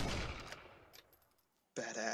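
A single loud shot goes off in a video game and trails into a fading echo. A brief pause follows, then a burst of other game noise cuts in.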